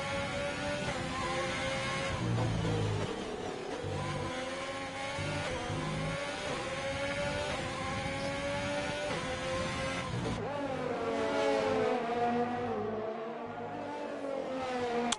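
Race car engines, a McLaren and a Ferrari, battling closely in a racing video game at the Russia GP, droning and whining continuously with rising and falling revs and no one talking.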